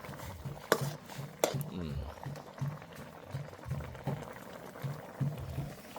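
Eel soup bubbling at a steady boil in a pot, a soft continuous simmer with a couple of sharp clinks near the start and faint voices in the background.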